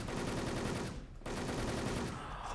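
Rapid automatic gunfire from the online shooter game Wolfteam, loud and close, with continuous rattling bursts broken by a brief pause near the middle before the firing resumes.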